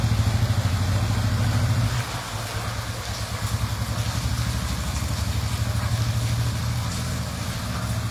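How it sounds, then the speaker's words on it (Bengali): A motorbike rides along a flooded road, its engine a steady low rumble that runs close and continuous throughout, with a brief dip partway through as it passes. "এই যে বাইকটা যাচ্ছে, আপনাদের দেখাচ্ছে, এটা বাইক আসছে"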